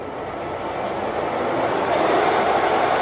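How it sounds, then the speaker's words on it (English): A Summit 34"/42"x120" gap bed engine lathe runs steadily, giving a continuous broadband mechanical whir that builds slightly and holds at a constant, fairly loud level with no talking. "We're going to show you the different RPMs on the machine."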